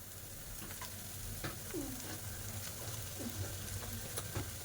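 Mutton boti being stirred as it fries in ginger-garlic paste: a soft, steady sizzle with occasional scraping strokes of a spoon in the pan, faint and close, no talk.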